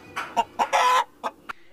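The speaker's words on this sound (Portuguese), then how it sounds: "ele cria galinhas e alguns galos" A rooster and hens on a roadside farm let out a short burst of close, loud clucks and squawks, one longer call in the middle among several brief ones.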